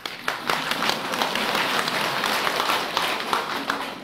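An audience at a Buddhist temple dharma talk claps steadily, a dense spread of many hands applauding at moderate volume in a room.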